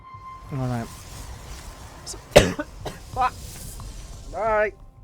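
A StarCraft 2 commentator coughs once, sharply and up close, during a $100,000 esports finals broadcast, between bits of his own speech.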